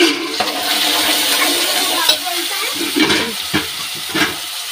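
Hot oil in a home kitchen pan gives a steady broad sizzling hiss, with a few brief bursts as food is stirred or moved, close and loud.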